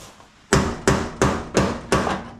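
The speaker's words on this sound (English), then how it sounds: "You could just post raw footage, Sam banging a hammer for an hour straight." Five sharp hammer blows on metal, banging a dent out of a 1979 Ford F250 truck, evenly spaced and close, each ringing briefly before the next strike.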